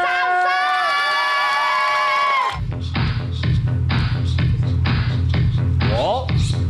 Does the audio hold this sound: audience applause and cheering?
yes